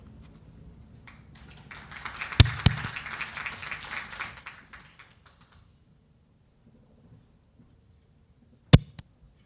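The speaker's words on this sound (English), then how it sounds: "Round of applause again for Mr. Hamza Shazam for the presentation." An audience at an agriculture finance conference gives brief, scattered applause after a presentation, building for a few seconds before fading out, with two sharp close knocks standing apart from the clapping.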